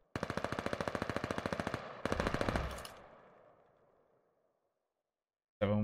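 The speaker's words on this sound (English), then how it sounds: "Everyone was just shooting to thin air there, trying to get a nice little reaction." Automatic gunfire from a Call of Duty: Vanguard esports match, a rapid steady burst of shots followed by a second heavier burst that rings out and decays, then a sudden loud blast at the end.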